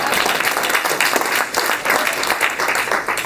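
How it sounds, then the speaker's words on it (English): An audience in a room applauds at a talk on emotional intelligence, with dense, even clapping from many hands that stays loud and continuous throughout. "let's have a nice round of applause for that wonderful introduction"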